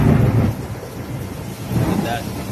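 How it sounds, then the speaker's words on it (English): A hailstorm with thunder in Fort McMurray, a heavy continuous rumble and pelting roar of hail and rain with deep thunder swelling, loud and close outdoors. "The hail! My goodness! Hailstorm."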